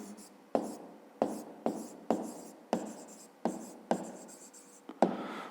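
Pen or pencil writing on paper during a grade 5 math exercise, with about eight sharp strokes or taps at a steady rhythm, close and fairly quiet, no talk over them.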